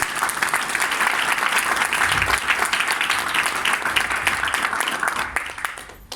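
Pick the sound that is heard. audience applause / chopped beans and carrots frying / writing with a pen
audience applause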